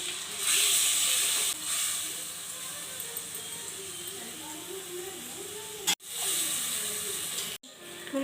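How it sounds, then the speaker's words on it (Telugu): Chicken keema curry broth with turmeric, chilli, coriander powder and garam masala boils vigorously in a pan, a loud, steady steamy hiss that runs under a person talking. "పులుసు బాగా మరుగుతుంది కదా"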